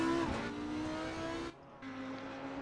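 An Audi R8 LMS EVO II race car in a racing video game at Kyalami whines at high revs, drops briefly on a gear change, then pulls again in a steady engine tone, close and constant.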